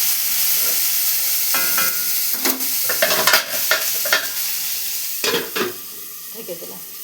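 Bitter gourd pieces frying in a pan with turmeric and salt give a steady sizzle, broken by several sharp scraping stirs and clinks of a spatula, close by with no talking.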